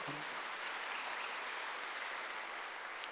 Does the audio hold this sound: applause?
yes